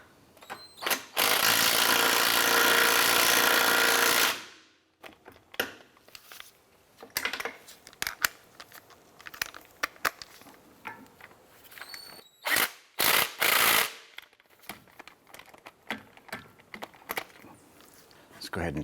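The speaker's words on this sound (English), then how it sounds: "I'm going to go ahead and tighten our bolts down." Bolts being tightened on the front transmission mount of a 2004-2008 Acura TL, with a loud sustained burst of ratcheting or driving at the start, followed by shorter intermittent tool clicks and bursts, close up, with a voice talking between them.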